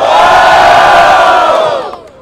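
A loud crowd at a Brazilian street rap battle, Batalha da Aldeia in Barueri, São Paulo, roars and shouts in support of an MC, a dense sustained wall of cheering that fades out at the end.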